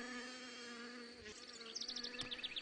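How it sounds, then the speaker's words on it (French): An Asian hornet (Vespa velutina) hovers in place beside a beehive, its close, steady wing buzz droning throughout while fainter, higher bee buzzes flit past near the end. "Le velutina vole de façon stationnaire, le dos tourné à la ruche."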